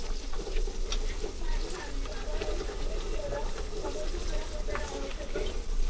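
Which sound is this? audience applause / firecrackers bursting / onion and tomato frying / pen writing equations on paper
onion and tomato frying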